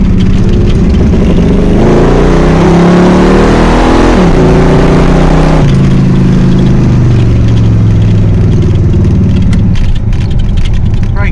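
A Chevrolet C3 Corvette runs down the road, its engine droning loud and close throughout with rising and falling revs as it accelerates and shifts, a steady heavy rumble over road noise.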